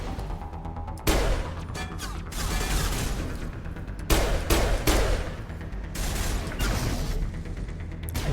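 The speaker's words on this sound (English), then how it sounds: "I hear a sniper." Sniper rifle shots in Mass Effect Legendary Edition, with several sharp cracks spread across a busy battle of other gunfire and mechanical clatter, loud and close.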